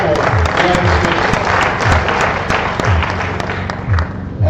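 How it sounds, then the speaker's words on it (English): A school assembly at an annual general meeting breaks into loud, sustained clapping close by, with a faint rhythmic low thump underneath and a little background voice. "Let's clap for"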